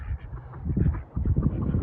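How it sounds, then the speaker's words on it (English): A flock of hungry ducks quacks in a dense, chattering jumble at feeding time, nearby and fairly loud, rising and falling in bursts with no talk over it. "The ducks get impatient if I stop and talk."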